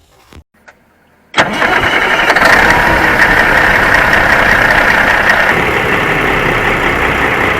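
A Caterpillar C15 diesel engine fitted with a new torsional damper cranks briefly and then catches. It settles into a loud, steady, close running rumble with no talk over it.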